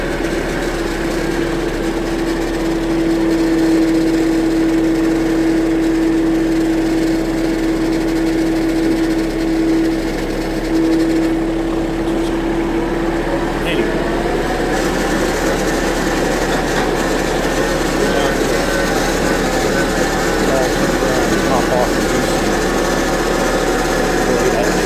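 A tractor engine drones steadily while grading a gravel driveway, a constant loud mechanical hum with a high whining tone early on that fades midway, the running sound persisting unchanged to the end.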